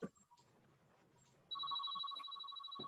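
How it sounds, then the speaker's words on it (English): A telephone rings in a home office, a sharp electronic trill that sounds once about midway and carries on to the end, preceded by faint room noise. "Got the phone ringing over here."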